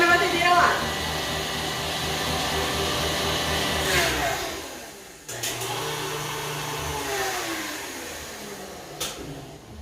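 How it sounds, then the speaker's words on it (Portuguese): A stand mixer whirring steadily in a kitchen where a floral-decorated chantilly cake is being made, with a short pause partway through before the motor hums again, loud and close. "Vou desligar minha batedeira lá."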